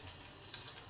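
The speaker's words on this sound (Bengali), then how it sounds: "রসুনটাকে একটু ভালো করে ভেজে নেব" Garlic, mustard seeds and ginger fry in a pan over low to medium gas, a faint, steady, close sizzle with light crackle and no talk.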